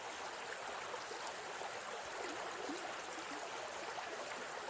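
River water flows over stones in a continuous, even, soft rushing hiss with no breaks and no voices.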